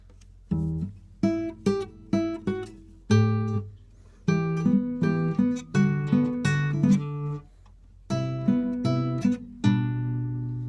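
Acoustic guitar plays a classic Italian instrumental with separate plucked strums and chords in a steady, unhurried rhythm, close up and clear, each chord ringing out before the next.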